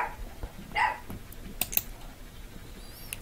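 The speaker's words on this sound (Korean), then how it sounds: "우리 강아지가 6마리가 있어요. 옆집하고 우리 집하고 합쳐서." Household dogs from a pair of neighbouring homes barking somewhere nearby: a few short, faint barks in quick succession, with light tapping sounds in the background.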